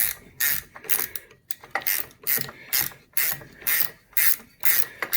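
Close-up ratcheting of a ratchet spanner while stripping a Suzuki DR200 donor motorcycle: about eight or nine rhythmic bursts of rapid clicking, each stroke followed by a brief quieter gap.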